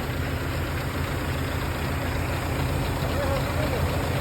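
A diesel car engine fitted with EcoJet injectors idling, a steady low rumbling drone close by with a voice speaking over it.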